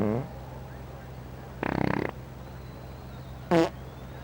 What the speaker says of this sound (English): So you can also fart on command.